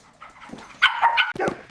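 A military working dog barks and yips loudly at close range, a few sharp barks bunched together with a brief whimpering edge, and no other sounds around it.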